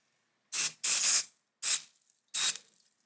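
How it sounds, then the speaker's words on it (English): Four short hissing bursts of cyanoacrylate super glue activator being sprayed from a can, close and fairly loud, the second burst longer than the rest, with silence between sprays. "You can use something like this, like a cyanoacrylate activator."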